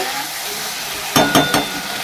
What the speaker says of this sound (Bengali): এই যে আলু দিয়ে টমেটো দিয়ে যে গুঁড়ো মশলাগুলো মানে জিরে ধরে একটু অল্প একটু আদা দিয়েছি কারণ বাটা মাছে আদা না দিলেও চলে এই দিয়ে যাচ্ছে ভালো করে কষানো হচ্ছে